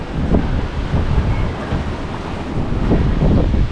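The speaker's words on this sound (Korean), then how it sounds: "어우, 바람 세다." Strong wind buffets the microphone at an overwater pool villa in the Maldives just after rain. It roars in steady loud gusts with a faint wash of sea underneath and no talking.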